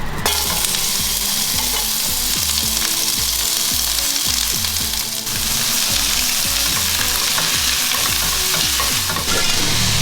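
Onion and garlic fry in about three tablespoons of hot oil in a wok, giving a loud, steady sizzle with repeated stirring scrapes throughout.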